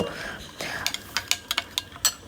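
Spoon stirring tomato sauce, soy sauce, pepper and cornflour in a bowl for chowmein, with a run of sharp clinks and taps against the bowl, close and fairly loud, following a brief soft scrape.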